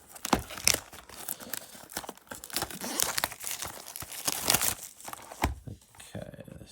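A Yu-Gi-Oh! Justice Hunters booster box and its packs torn open with continuous close ripping and crinkling of wrapper and cardboard, loud and busy, easing off into quiet at the end.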